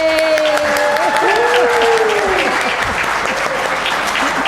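An audience at a man-versus-machine debate on artificial against emotional intelligence breaks into loud, sustained applause to back a side, dense and continuous throughout, with a voice briefly heard near the start.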